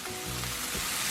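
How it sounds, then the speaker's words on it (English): Onions sauteing in a pan for a bacon sandwich give a steady, close sizzle that stays even all the way through, with no talking over it. "We do have to worry about our onions not burning though. We want to saute them."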